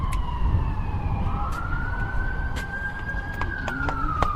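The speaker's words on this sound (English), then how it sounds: "I'll wait till the sirens have gone past." Emergency vehicle sirens pass by, one long wailing tone rising and holding over a low traffic rumble, with a few short chirps and a second siren sweeping in near the end.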